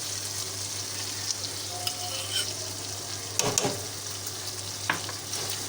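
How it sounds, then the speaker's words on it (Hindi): Chicken for murgh cholay, a chicken and chickpea dish, frying in a pan with a constant close sizzle and low hum underneath, broken by a few scraping stirs and clinks of a utensil partway through. "देखिए चिकन हमारा तकरीबन फ्राई हो गया है।"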